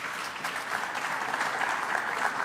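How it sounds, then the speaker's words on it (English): Steady applause from a crowd at a New York City government event, many hands clapping continuously at moderate loudness for a couple of seconds. "let's give another round of applause to our great Mayor, Eric Adams."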